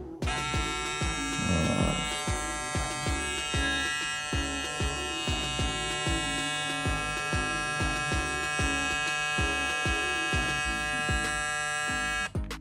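Gamma+ Golden Gun hair trimmer running steadily up close, a loud continuous electric motor buzz with rich harmonics and a faint rattling pulse, lasting the whole stretch without talk.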